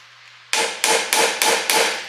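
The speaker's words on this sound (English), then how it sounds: "I'm just going to give it a pound or two with the hammer to jar it loose" A hammer strikes a center punch to loosen a stuck screw in the interior of a 1975 Monte Carlo, giving five loud, close, evenly spaced metallic blows with no talking.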